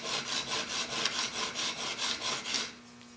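A woodworking chisel is honed on an extra coarse sharpening stone, making soft, rhythmic gritty scraping in about nine even back-and-forth strokes, close up and fairly quiet.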